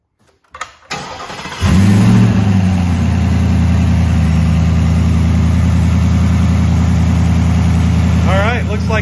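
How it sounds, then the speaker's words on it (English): A 2021-or-newer Ford F-150 fitted with a Cobra Jet supercharger cranks over after a couple of clicks, fires loudly nearby and settles into a steady deep idle, with a faint voice near the end. "let's go ahead and fire up and see how she sounds and what she does"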